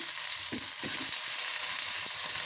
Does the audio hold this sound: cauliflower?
yes